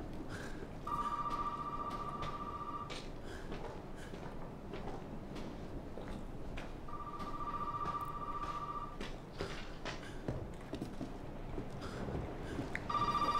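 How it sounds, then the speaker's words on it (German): A telephone rings in the horror video game Resident Evil 7, two long bursts of trilling electronic ringing several seconds apart, heard over a quiet ambient background with a third ring starting at the end. "Jetzt klingelt da das Telefon."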